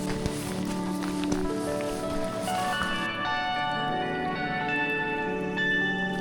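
Rain falls steadily during a hike on the GR5 trail through a Vosges valley, a continuous patter and rustle close around, with footsteps or gear shuffling and a tonal background mixed in, no talking.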